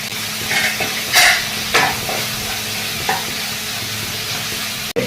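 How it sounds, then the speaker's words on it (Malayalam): Chopped onions sauté in coconut oil in a pan, a loud close sizzle with several brisk scraping stirs early on and a sharp knock near the end. "അരിഞ്ഞു വെച്ചിരിക്കുന്ന ഉള്ളി വേവിക്കുക."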